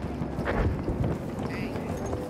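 Enemy cavalry horse galloping in a video game on the Ballroom Blitz map, with rumbling, continuous hoofbeats close by amid dense game noise, as players talk over it.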